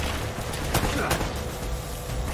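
Gunfire in the PlayStation game Uncharted: Drake's Fortune, fortress level: a few sharp shots ring out over a steady bed of game ambience, with two brief louder bursts standing out.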